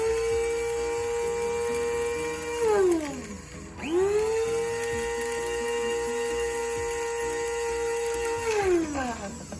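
Small electric grinder milling dried moringa leaves into powder, a loud steady whine that slows and drops in pitch twice, then spins back up to full speed, with no talking.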